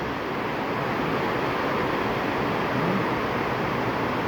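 Strong wind in heavy rain gives a dense, constant roar with gusty buffeting against the microphone, loud and unbroken throughout.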